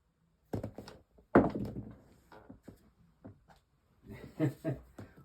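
Dice dropped onto a craps table in a drop toss, two sharp thunks landing about a second apart, followed by softer rattles as they settle, with someone talking over the end.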